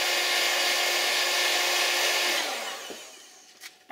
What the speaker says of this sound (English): Put the heat gun on.